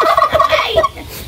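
A turkey, the male bird, gobbles loudly and close by in several rapid bursts of warbling calls over about a second.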